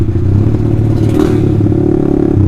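A Honda CBR150R motorcycle fitted with an Austin Racing aftermarket exhaust idles and revs up close by, a steady loud engine drone with a short rise in pitch midway, with no voices.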